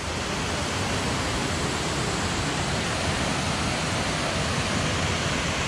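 Steady, dense roar of a waterfall in rainy Yorkshire, loud and constant throughout with no voices over it.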